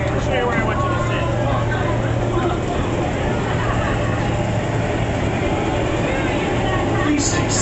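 A large-scale ride-on model railroad train runs past a station, a continuous rumbling roll with a low steady hum, while people talk over it.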